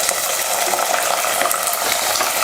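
Small shallots and whole garlic cloves, added with curry leaves, sizzle and crackle steadily in hot oil with cumin and fenugreek for a Tamil fenugreek kuzhambu. The frying is loud and close, with faint stirring.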